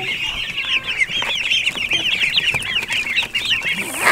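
Chicks being moved from a brooder to pasture chirp and cluck in a dense, constant chorus of high peeping calls, close and fairly loud, with rustling and handling noises underneath and no speech.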